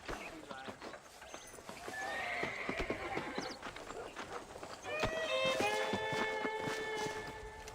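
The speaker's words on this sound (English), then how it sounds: "Getting shot, then riding a horse seems to take it out of you." A horse in the Red Dead Redemption video game whinnies twice while its hooves clip-clop at a run, the second neigh louder and longer, with faint voices in the background.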